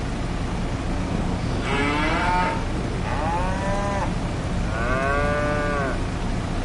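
Cattle in Farming Simulator 25 give three drawn-out moos, each rising and falling, over a constant low background hum with no talking.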